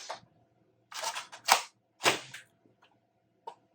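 An Aeon Pro-X foam dart blaster fires several sharp, close snaps with short mechanical clacks, spaced apart against near silence.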